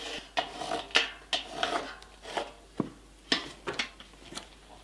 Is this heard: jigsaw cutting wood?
yes